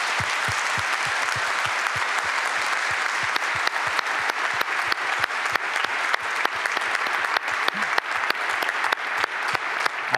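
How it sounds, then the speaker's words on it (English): An audience at a Python developer conference's opening session claps in sustained applause, a dense, even rattle of many hands at steady volume throughout, with a few sharper individual claps standing out near the microphone. "they really deserve a big thank you and a big round of applause."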